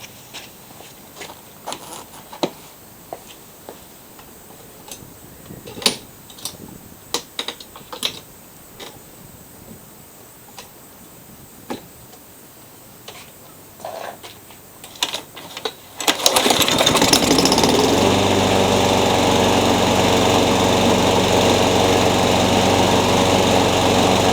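A revived curbside Craftsman lawn mower with a new spark plug, choked: clicks and handling noises, then the engine fires at once and keeps running loud and steady close by.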